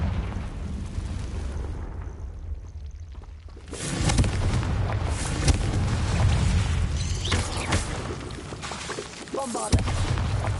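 Confringo fire blast spell explosion in Hogwarts Legacy, a sudden booming burst after a subdued stretch, followed by sustained rumbling and crackling effects and a second sharp impact near the end.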